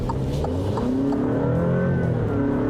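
The 2-litre turbocharged engine of an Alfa Romeo Stelvio Veloce SUV accelerating, a loud, steady engine note heard from inside that climbs in pitch through the gears, with no talking.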